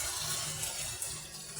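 Water poured into a cooking pot, a soft, steady stream heard close and faint for the whole moment without interruption.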